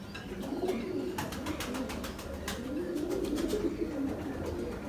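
A pigeon of a high-flying breed coos in low, rolling bursts, repeating steadily through the stretch with no voices, while faint sharper chirps flicker in the background.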